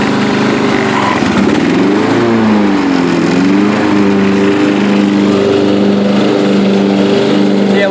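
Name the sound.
Yard King riding lawn tractor mowing in third gear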